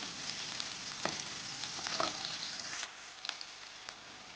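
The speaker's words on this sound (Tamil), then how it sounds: "வெங்காயம் வந்து நல்லா வதங்கட்டும்." Onions sauté in oil for vegetable noodles, a soft, even sizzle with a few light utensil scrapes, fairly quiet and close with no talking.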